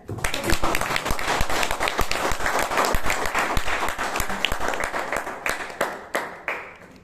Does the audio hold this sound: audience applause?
yes